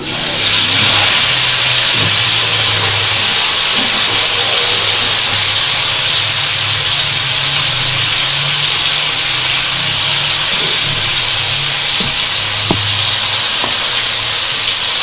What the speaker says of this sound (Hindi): अब मैं इसमें ये मैरिनेट किए हुए पीस गलने के लिए डाल दूँगी इसमें